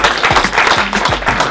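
At a kick-off event at the Gjaltema stadium in Veendam, an audience breaks into close, loud applause, a thick, even wash of clapping across the whole moment with no voices on top.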